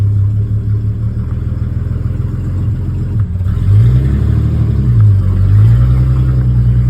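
A 1946 Hudson car pulls out on salty winter roads. Its engine idles with a steady low rumble, then revs and rises in pitch as the car moves off, loud and close.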